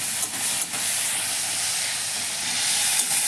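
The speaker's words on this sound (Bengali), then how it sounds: "চিংড়িটা আমি একটু ভেজে নিই।" Shrimp frying in hot oil in a pan, a steady, close hiss of spitting oil that holds at an even level with brief crackles and no voices.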